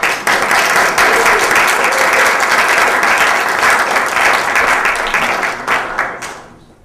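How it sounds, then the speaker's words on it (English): Audience applause at a Green Communities awards ceremony, loud sustained clapping from a full room lasting about six seconds before tapering off to quiet. "Big clap for them"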